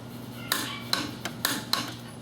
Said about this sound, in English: you take your torque wrench and you torque it down to between 50 and 55 foot-pounds